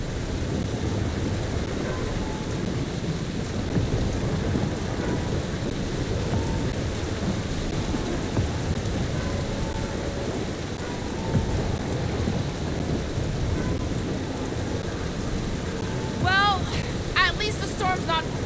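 Heavy rain and rolling storm rumble in a thunderstorm from the video game Marvel's Guardians of the Galaxy, a dense steady roar throughout, with a few brief chirping calls near the end.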